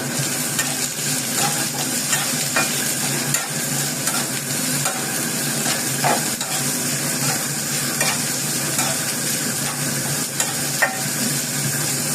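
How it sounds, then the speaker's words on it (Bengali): Vegetables and green chillies stir-frying in a pan for homemade vegetable noodles make a continuous close sizzle, with scraping stirs and light utensil clicks repeating throughout and no talking. "স্টার্ট করব পিসগুলো ভেজে সবজিগুলো দিয়ে দিব"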